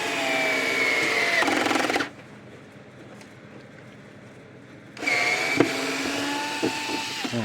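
A power drill drives screws into the housing of a Zareba Blitzer solar fence charger, whirring loudly for about two seconds, pausing, then running again in a second steady burst.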